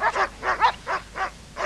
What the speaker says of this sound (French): Que se passe-t-il avec les chiens? Ils sont devenus enragés?